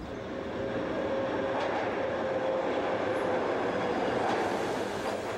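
A subway train on steel wheels rumbles steadily along the rails, with a faint metallic whine from the wheels and occasional clicks, loud and continuous.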